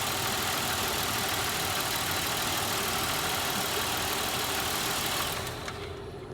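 A 2007 Buick Lucerne engine idles with a steady close mechanical drone after its crankshaft sensor signal wire is grounded, then stalls near the end, the sound dropping away sharply and leaving only faint noise.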